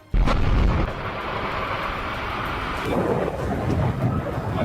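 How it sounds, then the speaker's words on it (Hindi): A sudden deep boom erupts as an 800-foot chimney is demolished by explosives, followed by a long rumbling roar of the collapse, with heavy low rumble continuing to the end. "800 फीट ऊंची चिमनी को भी धमाका कर चंद सेकंड में जमींदोज कर दिया गया।"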